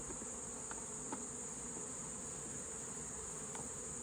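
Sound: honey bees buzzing in a box

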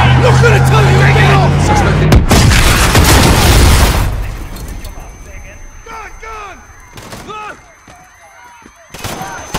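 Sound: explosion, a detonation in the video game Call of Duty: Modern Warfare

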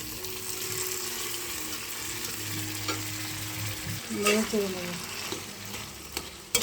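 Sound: frying boiled papaya with mustard while stirring

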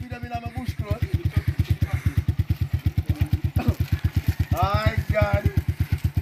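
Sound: 150cc motorcycle being ridden

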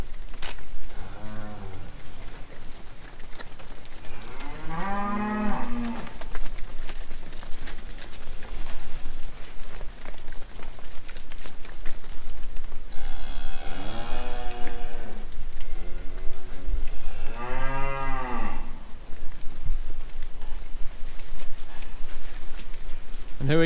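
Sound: cattle mooing

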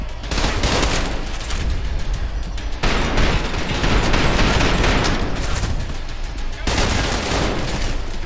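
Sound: gunfire from guns in the video game Trepang2

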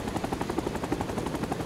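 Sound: helicopter in video game Rising Storm 2: Vietnam

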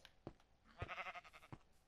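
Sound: sheep bleating in Minecraft video game

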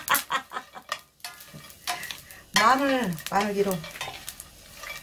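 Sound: stir-frying anchovies with nuts in a pan

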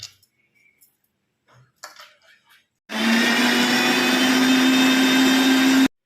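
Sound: mixer grinding salted tamarind into a paste

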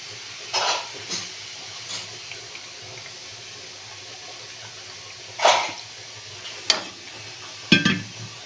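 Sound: stirring beetroot halwa in pan

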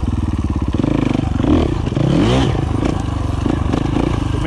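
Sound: motorcycle riding in second gear

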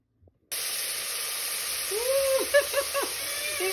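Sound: khichdi spices and ingredients frying in hot oil

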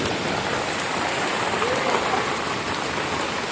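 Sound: rain

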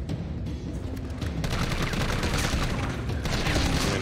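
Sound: gunshots in the video game Resident Evil 3

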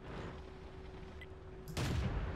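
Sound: tank cannon fire in World of Tanks video game

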